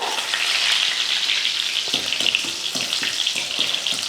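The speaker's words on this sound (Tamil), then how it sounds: "கடுகு நல்லா பொரியட்டும் கடுகு பொரிஞ்சதே கொஞ்சம் கருவேப்பிலை" Mustard seeds and curry leaves crackle in hot oil for a gourd pickle, a bright steady sizzle with popping spatter and a few soft stirring knocks later on.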